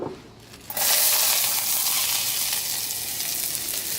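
Olive oil sizzles loudly in a canteen cup as vegetables go in for a New Year's Day soup, jumping from a faint start into a steady, bright hiss that holds to the end.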